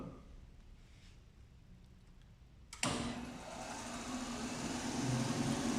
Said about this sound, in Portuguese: E agora eu vou fazer a partida da máquina.